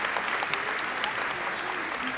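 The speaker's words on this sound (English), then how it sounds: "Let's give a big round of applause right here." Steady, full applause fills a school hall at an elementary school Grandparents Day gathering in December 2015, a thick, even wash of clapping from a sizeable crowd with faint voices beneath.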